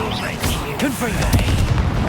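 A Confringo blasting spell explodes in the Hogwarts Legacy video game, with booming low rumbles and bursts layered over game effects and a speaking voice throughout.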